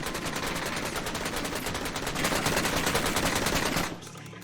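M249 and PKM machine guns rattle off long, loud bursts of rapid automatic fire in the VR shooter Onward, the dense, unbroken stream of shots pressing on for about four seconds before cutting off abruptly.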